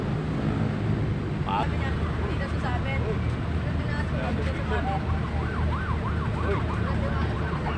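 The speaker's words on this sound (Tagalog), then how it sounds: "Tingnan na may ambulansya po." A wailing ambulance siren rises and falls over loud, dense road traffic noise, with voices murmuring underneath.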